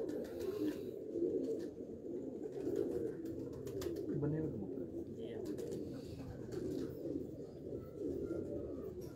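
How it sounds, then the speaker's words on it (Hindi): Pure Sialkoti pigeons coo continuously in a loft, with soft, throaty, overlapping calls repeating in a steady, murmuring rhythm and faint voices in the background. "अभी आपको पहले दिखाए हैं प्योर सियालकोटी कबूतर"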